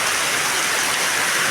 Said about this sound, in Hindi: रात के 11 बजे इतनी भयंकर बारिश हो रही है, बहुत ही ज़्यादा खतरनाक वाली बारिश।